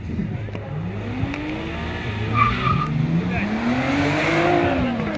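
A Bentley 6.0 bi-turbo and an Audi RS4 2.7 bi-turbo race, their engines rising and falling as they accelerate with turbo whine, heard from a distance with voices talking over them.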